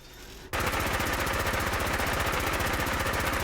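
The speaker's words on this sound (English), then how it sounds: "This is going to shoot even faster." A laser microgun in a modded Fallout 4 opens up after a brief lull and keeps firing as a dense, rapid, steady electronic rattle that stays loud for about three seconds without a break.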